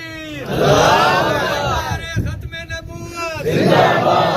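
Religious gathering chanting slogans: a crowd shouts loud drawn-out collective cries in two bursts, with a brief lull and scattered voices between them.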